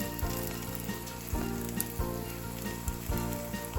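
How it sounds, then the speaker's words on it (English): A beef burrito sizzles and fries on a hot skillet, with a steady crackling hiss and light periodic taps, close up and without speech. "I'm gonna take my burrito and put it on my hot skillet."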